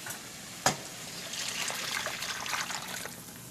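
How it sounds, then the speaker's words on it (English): A tomato mixture pours into rice in a pan, starting with a sharp knock and then a soft, steady trickle and light sizzle that runs on for a few seconds. "Now we're going to go and pour that into our rice."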